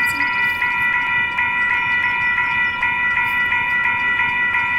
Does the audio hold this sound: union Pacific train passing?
yes